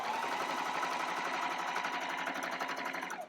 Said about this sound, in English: when you're just top stitching, you do not have to back stitch